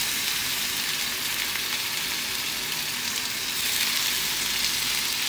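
Chicken breast frying in a pan after a quick sauté: a steady, loud, even sizzle throughout, with no voices.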